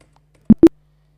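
Two quick, sharp clicks of keys pressed on a computer keyboard in close succession, near and distinct, in an otherwise nearly silent room.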